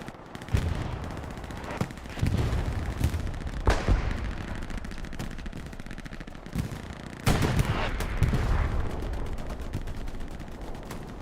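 A bombing run in the game Hell Let Loose hits in several heavy waves of blasts and crackling gunfire that rise and fall, sometimes distant and sometimes close, with no voices.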